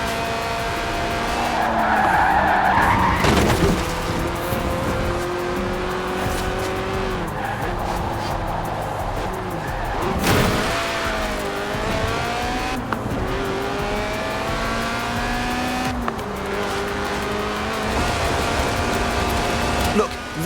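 In Forza Horizon 4, a low, stiffly sprung track car slides completely sideways: loud, sustained tyre squeal and engine roar run continuously for about twenty seconds, with a few sharper bursts along the way.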